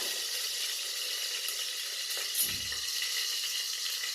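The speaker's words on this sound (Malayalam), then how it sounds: "മിൽമ നെയ്യാണേ അത് കുറച്ച് ഒഴിച്ചു കൊടുക്കാം" Milma ghee poured into a hot pan sizzles with a constant bright hiss, and a brief low splash and crackle swell as more goes in.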